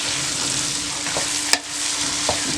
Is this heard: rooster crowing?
no